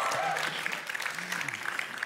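An audience applauds at a video game showcase for Fallout 76, scattered clapping at moderate volume that thins out, with a voice talking over it.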